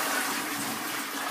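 A toilet flushes close by, a brief rush of water that stays loud and steady throughout, with no speech.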